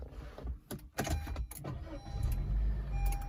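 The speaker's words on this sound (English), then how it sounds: "Let me just turn on the car" A Honda City i-VTEC petrol sedan has its engine started from inside the cabin, with a few clicks and clunks before the engine catches and settles into a steady low idle.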